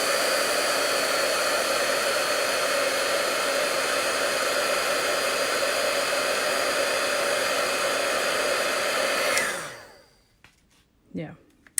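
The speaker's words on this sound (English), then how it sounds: "Let's just do the embossing." A heat embossing tool used on a card stamp blows a loud, steady, hair-dryer-like roar for about nine seconds, then switches off and winds down, leaving faint handling noises.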